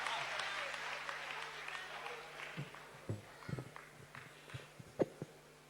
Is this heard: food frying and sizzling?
no